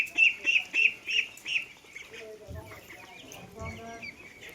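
Chinese ducks and Khaki Campbell ducks quack nearby in a run of about five loud, evenly spaced calls, followed by softer scattered farmyard sounds and low thumps.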